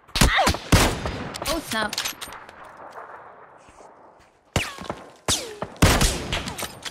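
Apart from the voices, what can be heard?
gunfire in the video game PUBG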